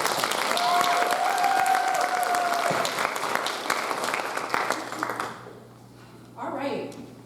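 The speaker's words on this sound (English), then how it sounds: "So if we could just give a round of applause." Audience applause at a university communication studies hooding ceremony, a broad sustained clapping that fades out after about five seconds, followed by a voice speaking near the end.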